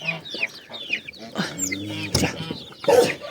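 Four grey hens clucking nearby in a row, with short chirpy clucks and squawks coming in quick bursts, a little rustle in between and no talk.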